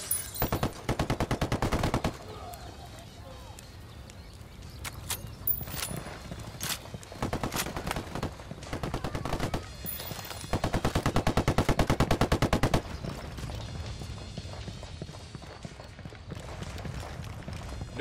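Gunfire in Ghost Recon Wildlands, with long rapid automatic bursts and scattered single shots repeating across the clip, loud and close, some volleys rattling on for several seconds.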